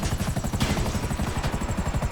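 Helicopter in the video game GTA 5, its rotor giving a loud, close, steady rhythmic thumping throughout with no talk over it.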